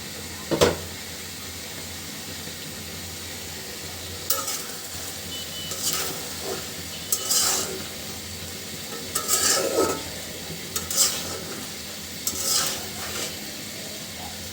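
Lifting the lid on a simmering pot of Bengali winter mixed vegetable curry with dried taki fish and potatoes. A sharp clack comes first, then a run of clattering metal scrapes and stirring over a steady bubbling sizzle, with no talking.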